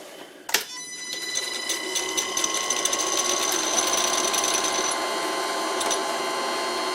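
An old wood lathe turns metal at about 500 RPM. A sharp clack is followed by a steady mechanical whir with a faint ringing, rattling tone that holds close and constant.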